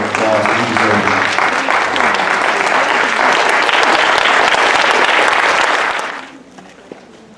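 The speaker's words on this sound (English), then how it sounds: "could we please give them a standing ovation if you can, and a round of applause" A crowd gives a standing ovation with loud, sustained applause for police officers honored after graffiti vandalism at a school. The clapping stays dense and even for about six seconds, then fades quickly to a quiet room.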